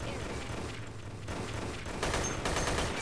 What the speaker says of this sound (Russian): вот и первый стреляющий враг. Судя по точности стрельбы, это имперский штурмовик. Потрясающая перестрелка.